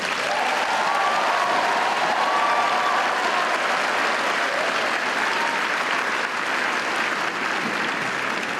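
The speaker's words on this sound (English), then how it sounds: "let's give our graduates a tremendous round of applause" A large crowd of parents and friends gives long, loud applause for graduates at a university fall commencement, with continuous dense clapping filling a big hall and faint cheering voices mixed in.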